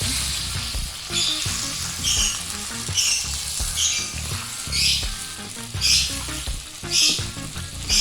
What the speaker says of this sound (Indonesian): Kita tambahkan juga air putih. Tambahkan air secukupnya.